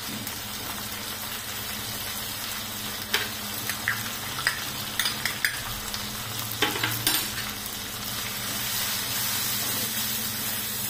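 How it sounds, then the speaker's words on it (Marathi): Turmeric and red chili powder are stirred with chopped tomatoes in a hot pan, giving a continuous soft sizzle and frying hiss, with scattered light scrapes and taps of the spoon in the middle. "छान असं हलवून घ्यायचं."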